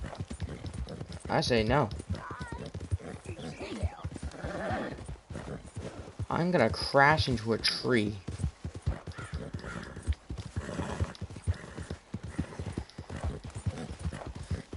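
Horse hooves clip-clop at a fast gallop in Red Dead Redemption 2, with neighs and whinnies and some crow caws, running steadily under people talking over it throughout.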